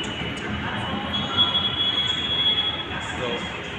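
A Delhi metro train at Moti Bagh station sends out a steady, high wheel squeal over a dense rumble of rolling stock, heard close and continuous with no talk.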